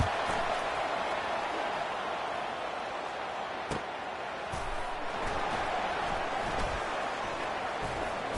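Stadium crowd at a college football game, Washington Huskies, roaring for a punt return: a broad, sustained wall of cheering noise with a few sharp claps or bangs standing out.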